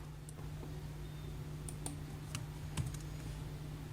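Computer keyboard typing while an Excel SUMIFS formula with dates is entered, soft irregular key clicks with a few sharper taps, close and fairly quiet over a steady low hum, no talking.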